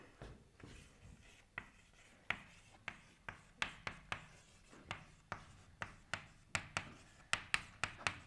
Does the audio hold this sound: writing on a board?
yes